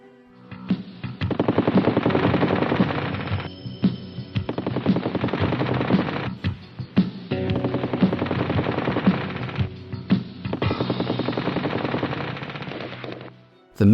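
Heavy aircraft cannon and machine guns fire in long, loud bursts of rapid repeated shots, four separate volleys separated by brief pauses, close and without talk.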